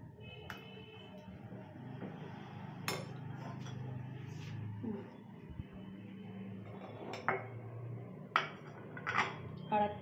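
Fruit custard dessert is spooned into bowls, with intermittent clinks and taps of spoons against dishes at moderate distance, quiet between hits and a few sharper clinks toward the end, with low voices in the background.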